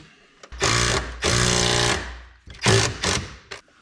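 A power driver drives a screw into a part on a Ford Fusion during ABS speed sensor work in several short, loud whirring bursts with brief pauses between them, close to the microphone.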